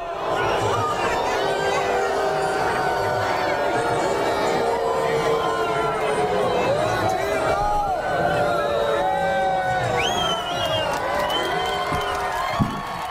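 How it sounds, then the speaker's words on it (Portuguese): A large crowd gathered in a public square for a political speech boos and jeers continuously, with whistles, shouts and a dense roar of voices sustained throughout at a steady, loud level. "Muito bem, muita gente vaiando."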